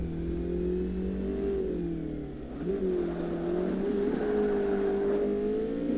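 A race car's engine revs and shifts in Forza Motorsport during a professional high-power open-wheel race, the tone climbing and dropping steadily with no talk over it.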